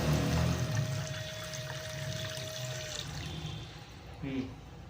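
Water pours steadily with a continuous rushing splash, while voices talk nearby.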